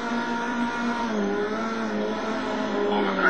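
A Group N rally car's engine in WRC 4 holds a steady high drone, the pitch shifting slightly as it runs on alone, with no voices over it.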